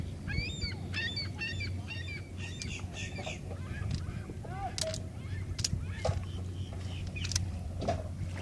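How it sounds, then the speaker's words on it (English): Many birds, likely geese or similar waterfowl, call from mangrove trees during a boat trip at Long Point, sending out repeated honks and squawks of varying nearness over a steady low motor hum. "Lots of birds right here."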